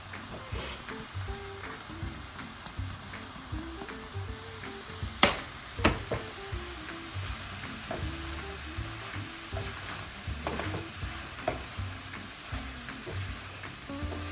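Taco meat sizzles in a pan while being stirred, with a continuous crackle and scattered scraping knocks and clinks, close and moderately quiet, with no talk.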